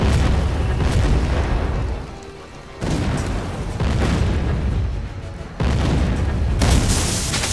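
Heavy artillery booms in a D-Day video game, three loud rumbling blasts in succession, each trailing off before the next strikes.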